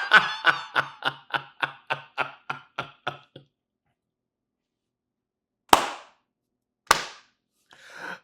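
A slow clap, about ten sharp handclaps spaced evenly over roughly three seconds. After a pause, two more isolated claps follow, and then a fainter one.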